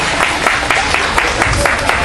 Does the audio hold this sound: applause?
yes